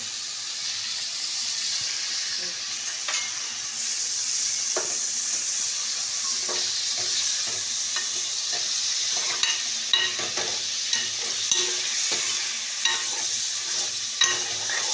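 Mutton pieces sauté with turmeric in a pan, giving a continuous close sizzle and hiss, punctuated by scattered stirring scrapes and small pops that grow more frequent toward the end.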